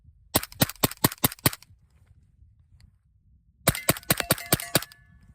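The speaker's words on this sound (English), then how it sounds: "Shoot a couple into the dirt." A suppressed 300 Blackout rifle fires subsonic rounds into dirt in two quick strings of about six sharp, close cracks each, with some metallic ring, separated by a quiet pause.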